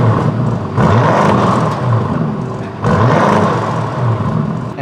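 Lamborghini Urus SUV in Strata mode, revved while stationary: two loud, sustained exhaust revs rise and fall back to a steady idle rumble, with no talking.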